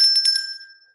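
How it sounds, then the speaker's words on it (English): A hand service bell struck several times in quick succession, producing bright metallic dings that ring on and fade out, heard up close with no talking. "Yeah, but it doubles up as my servant bell."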